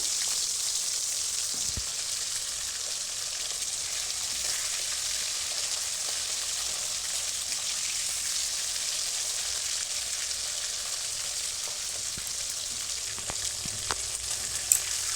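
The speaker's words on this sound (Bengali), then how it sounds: "তেলটা গরম হয়ে যাওয়ার পরে আমি মাছগুলো একে একে দিয়ে দেবো।" Two pomfret fish fry in hot oil in a wok, giving a steady, even sizzle that holds for the whole stretch, with a few faint spits and pops near the end and no one speaking.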